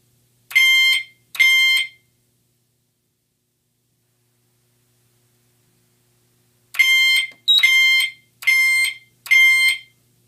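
A Cerberus Pyrotronics fire alarm panel chime rings in short harmonic bursts: two brief chimes, a long silence, then four more evenly spaced chimes, clear and fairly loud with no talking.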